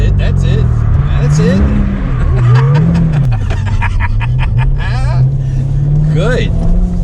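Chevrolet Corvette C7 Z06 engine loud and close through an autocross slalom, its pitch rising and falling with each on-off throttle swing, under constant coaching talk from a voice in the car.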